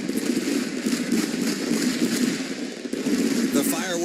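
Fireworks go off after a dirt track truck race at Eldora, a dense run of crackling bangs and pops heard from a distance under a commentator's voice and crowd noise.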